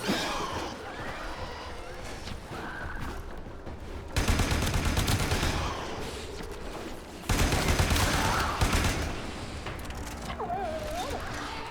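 Dense bursts of gunfire from a Warframe fight rattle on almost without a break. The volume jumps up in two louder stretches, with running and game effects mixed in and a voice talking over parts of it.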